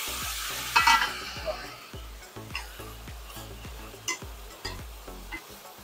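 Pork ribs being stir-fried in char siu sauce in a pan, with a loud sizzle and repeated scraping stirs of a utensil against the pan at a steady rhythm, close up and with no talk.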